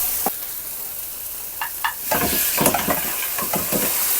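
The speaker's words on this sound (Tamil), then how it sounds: "இந்த மட்டனை இதில் நம்ம கொட்டிடலாம்." Mutton pieces hit ghee masala paste in a hot pan and sizzle steadily, with scraping stirring strokes and spattering crackles close up.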